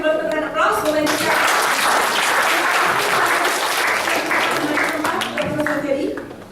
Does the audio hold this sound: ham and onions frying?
no